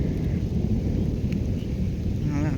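Heavy summer rain falls with thunder: a dense, steady downpour and deep rolling rumbles continue throughout, close and loud, with no voices.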